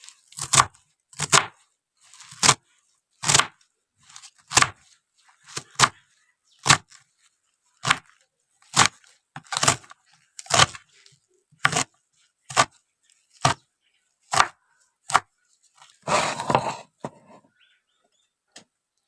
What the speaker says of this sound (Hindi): इस तरीके से बारीक बारीक काट लें इसको।